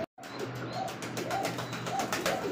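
Pigeons in a breeders' loft coo softly and repeatedly amid low background hum and faint chirps, with no talking.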